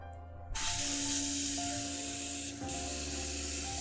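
Airbrush blowing back during cleaning: a loud, close, continuous air hiss that starts abruptly, dips briefly near the end and then resumes steadily.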